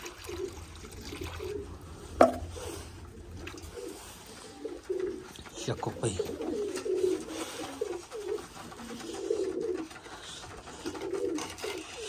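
Pigeons coo softly in repeated low rounded calls, scattered through the whole stretch, with a sharp knock near the start, some rustling and a brief spoken voice.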